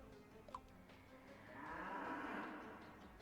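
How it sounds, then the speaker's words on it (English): Stock cow moo in the video game Miitopia, a single long, low, drawn-out bovine call that swells in the middle and fades, fairly quiet, with no talk. "that's a stock sound of a cow mooing"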